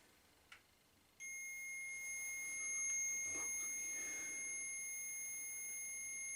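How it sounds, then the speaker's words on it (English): A handheld ghost-hunting device inside Derby Gaol emits a continuous high electronic beep that starts abruptly after a brief click and holds steady, clear and close, with no voices. "If you're using this device in my hand and you're making that beep, I need you to make it stop."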